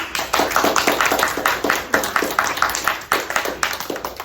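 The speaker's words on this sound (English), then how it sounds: "let's give her a big round of applause." Live audience at a how-to demo day applauds a presenter: steady, dense clapping from a roomful of hands, fairly close and even in loudness throughout.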